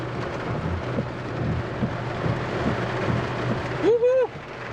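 Heavy rain pours steadily in Decatur, Illinois, a continuous close hiss with rumbling undertones, and a voice briefly whoops near the end.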